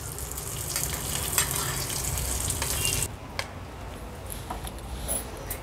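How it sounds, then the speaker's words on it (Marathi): Sago pearls roast in ghee in a pan with a steady, hissing sizzle for about three seconds, then the sound drops to a softer, quieter crackle. "एक मिनिट भरासाठीच मी हे फक्त तुपावर थोडेसे परतून घेते"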